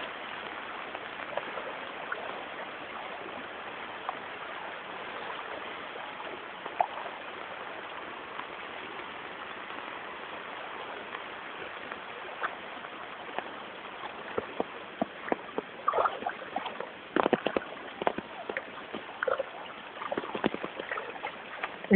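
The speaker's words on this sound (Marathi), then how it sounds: "ओसंडून वाहणारं पाणी" Floodwater of an overflowing river rushes in a steady broad wash, a continuous roar with scattered splashes and knocks growing busier toward the end, heard from close by.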